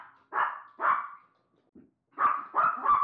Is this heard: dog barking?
yes